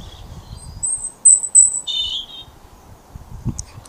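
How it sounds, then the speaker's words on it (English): A robin sings a few thin, high whistled phrases, then a brief warble, fairly faint against quiet background noise with low rustling, in a late January dawn chorus. "That's the sound of a robin singing."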